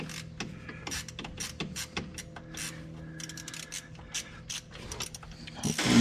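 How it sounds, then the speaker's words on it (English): Hand ratchet tightening a bolt deep in the driveline area of a Yamaha YXZ during a CrawlBox install, giving a run of close, quick, dry ratcheting clicks in short bursts that end with a louder clatter. "I usually use a hand ratchet on that because I don't have room around the driveline."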